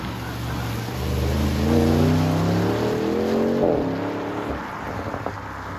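An Audi RS6 Performance estate drives and accelerates, its engine climbing through rising, sustained tones, peaking, then easing off, heard loud and steady from inside the car.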